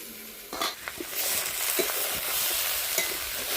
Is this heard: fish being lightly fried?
yes